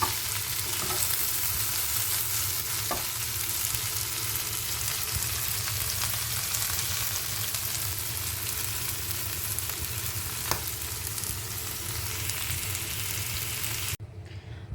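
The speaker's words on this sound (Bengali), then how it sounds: "ফ্রাইং প্যানে আমি কিছুটা তেল দিয়ে দিয়েছি। এর মধ্যে অ্যাড করে দিলাম ফোড়নে সাদা জিরে।" White cumin seeds sizzle in oil in a frying pan, a loud, continuous close-up hiss and crackle with occasional small ticks, cutting off abruptly near the end.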